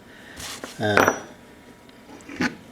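Loosened metal bolts are pulled out of a boat's sea water pump, giving a few close metallic clinks and a brief rattle, then one more clink a moment later.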